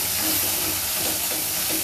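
Curry ingredients sizzle in a pan, a steady bright hissing fry that stays even and fairly loud, with no talk over it.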